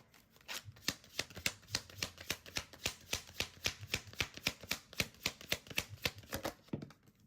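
Tarot cards are shuffled by hand in a quiet room, a steady run of crisp riffling snaps about three per second, close and clear with no talking.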